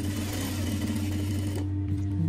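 A sewing machine runs steadily while stitching a straight seam on a kandura, a loud continuous motor hum that stays close and constant, easing slightly near the end with no talk.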